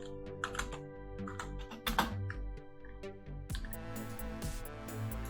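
Computer keyboard keys click in quick, uneven bursts over a quiet background hum while a designer works in Figma, the taps close and moderately loud.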